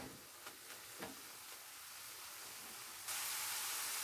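Apples cooking down in a pan as they are stirred, a soft steady sizzle with a few faint scraping strokes, then a louder hiss near the end.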